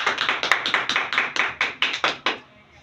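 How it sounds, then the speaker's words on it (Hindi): Roughly a dozen evenly spaced, close hand claps ring out for the sister at a church Christmas gathering, a sparse rhythmic clapping that stops abruptly. "सिस्टर के लिए सब जोरदार तालियां बजाएं"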